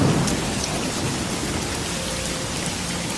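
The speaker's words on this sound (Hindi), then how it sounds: "बारिश तेज हो गई।" Heavy rain pours down with rolling thunder, a loud, dense and unbroken roar that holds steady throughout.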